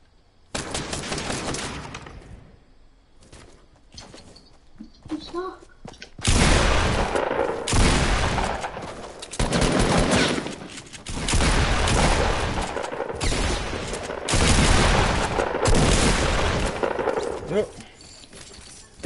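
Bursts of rapid gunfire from a shooter game, loud clustered volleys separated by brief pauses, with players talking over the action.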